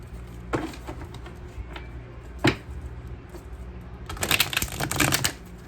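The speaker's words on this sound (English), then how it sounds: "I love how this deck shuffles." Tarot cards riffle and snap in quick papery bursts, a few short flicks early on and a longer rapid shuffle near the end, close and fairly quiet.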